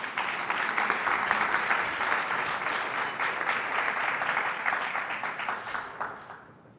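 Sustained audience applause fills a hall during a university's state-of-the-university address, dense and even clapping that fades out toward the end.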